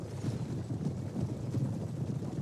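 Cavalry horse hooves in the battle game Total War Rome 2, a dense, continuous low rumble of many galloping hooves at moderate distance, steady with no clear individual beats and no talk.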